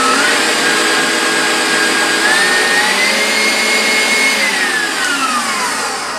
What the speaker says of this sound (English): I'll put the mixer on high speed.